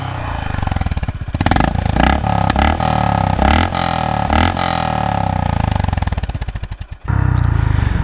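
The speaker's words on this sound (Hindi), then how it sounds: "इसका exhaust note सुन लेते हैं" Honda CB350 RS motorcycle engine running steadily up close, a continuous throbbing exhaust note with rev changes and a brief dip near the end before it picks up again.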